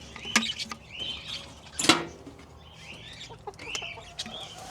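Backyard chickens on an urban homestead cluck softly at morning feeding time, with scattered short calls and one louder squawk amid faint outdoor background noise.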